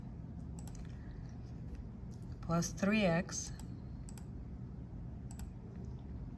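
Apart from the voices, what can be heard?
typing an equation on a computer keyboard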